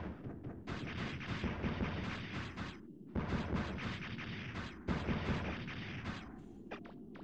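Explosions in the video game MegaMan 64 crackle and rumble in dense, loud bursts that run almost continuously, broken by a couple of brief gaps.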